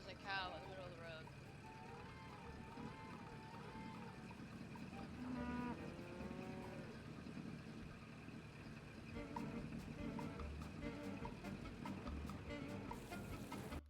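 A cow moos from the middle of a road in the Nancy Drew game Secret of the Old Clock, a drawn-out low bellow repeated a few times beneath ongoing speech.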